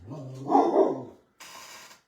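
A dog gives a single muffled bark from nearby, short and gruff, followed by a brief burst of rustling noise.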